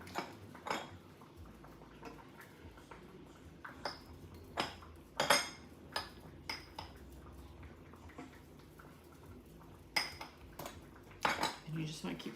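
A spoon stirs milk gravy in a pan over medium-high heat, giving quiet, irregular metallic scrapes and clinks against the pan with short pauses between strokes.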